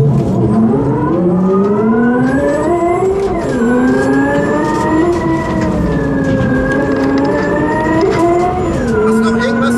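Simulated engine note of a Hyundai RN22E electric car, a loud synthetic siren-like tone with stacked harmonics that climbs, drops sharply at each downshift and climbs again, repeated over about ten seconds, heard alone.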